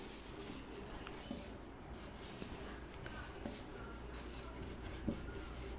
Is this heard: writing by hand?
yes